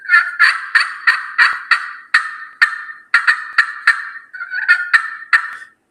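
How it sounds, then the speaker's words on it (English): Raspy, high turkey yelps scraped out on a slate call in a quick rhythmic series of about a dozen notes, close and loud with no talking. "Another call that's very popular is a slate call"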